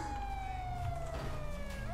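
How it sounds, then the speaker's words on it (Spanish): A police car siren wails steadily throughout during a chase, its tone sliding slowly downward, loud and continuous over low engine rumble. "¿Quién es el de la sirena?"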